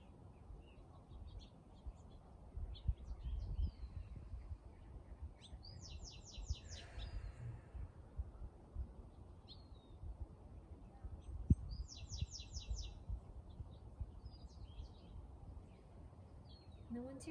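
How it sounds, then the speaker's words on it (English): Birds sing in the distance with repeated trilling phrases and scattered chirps over a soft outdoor background hum. "And just listen to the birds singing"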